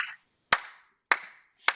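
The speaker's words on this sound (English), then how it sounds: "I'm clapping for you" Three sharp, separate hand claps from one person, spaced about half a second apart, close and crisp in an otherwise quiet room, each with a short ringing tail.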